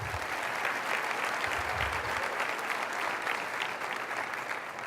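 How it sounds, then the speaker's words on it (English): An audience applauding sponsors at a 2015 economic summit's welcome session, a dense, steady round of clapping from a crowd in a hall, filling the whole moment at moderate loudness. "Can we please give those sponsors a round of applause?"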